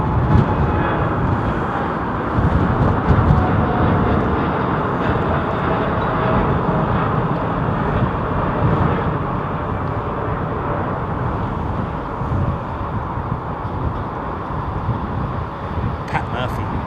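Boeing Dreamliner at London Heathrow: a continuous, fairly loud jet rumble and rushing noise fills the whole stretch, with a faint rising whine partway through.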